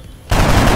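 A single loud, close gunshot from a soldier's weapon in the video game XCOM Enemy Within erupts suddenly after a brief quiet moment and rings out as a dense burst.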